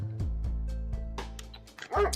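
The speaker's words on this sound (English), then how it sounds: "Sounds like you have two dogs from those barks." Two dogs bark and yip at home, a few sharp barks near the start and end over a low steady hum, with a brief whimpering tone.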